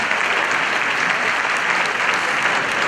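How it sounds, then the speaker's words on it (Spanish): Dense audience applause at a public debate event, a loud continuous wash of many hands clapping that holds steady throughout, with no talking over it. "Un aplauso, por favor."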